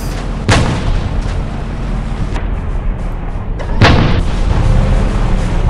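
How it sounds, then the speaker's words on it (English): Tank cannon fire in the online tank game War Machines, with a T90 tank in play: two sharp booming shots a few seconds apart, each with a short decaying tail, over a steady rumbling game background. "I hear some people shooting behind me."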